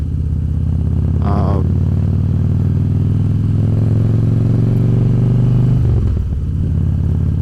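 A big Harley-Davidson V-twin motorcycle engine rumbles steadily at close range, a low throbbing idle that swells slightly in the middle, with a brief higher clatter near the start and a drop-off toward the end.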